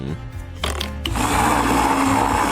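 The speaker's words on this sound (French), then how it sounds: "je mets couleur par couleur dans le mixeur et je mélange le tout" A kitchen blender whirs as it mixes coloured candies, starting with a few uneven knocks and jolts before settling into a loud, steady grinding roar.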